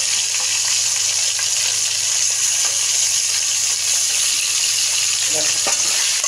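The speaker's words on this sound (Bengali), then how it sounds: "এবার আমি চিংড়ি মাছটাও দিয়ে দিলাম ওর সঙ্গে ভাজা।" Prawns frying in a pan, for a dish of kochu greens and hilsa head, make a loud, even hiss that stays close and constant, with a few faint clatters near the end.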